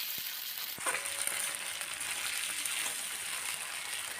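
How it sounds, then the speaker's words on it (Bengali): Potatoes frying in a pan with ginger and green chili paste, a steady dense sizzle running throughout, with a couple of faint clinks early on and no talking. "এখন আদা আর কাঁচা লঙ্কা বাটাটা দিয়েও আলুর সাথে আরও একটু সময় ভেজে নিচ্ছি"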